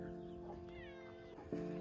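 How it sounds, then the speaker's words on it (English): A cat in a barn meows a few times, clear and close, with short tonal calls, one rising near the start and a stronger one at the end over quiet background. "The cat also loves attention."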